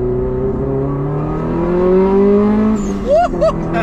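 A Subaru Impreza engine close by builds revs smoothly with a rising, droning pitch, then fires off two sharp quick throttle blips at the end.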